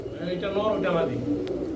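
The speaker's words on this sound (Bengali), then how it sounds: "ইম্পোর্টেড টেডি একবারে করাচির কবুতর পাকিস্তানি" A Pakistani teddy pigeon gives low, throaty coos close by, with someone talking over it.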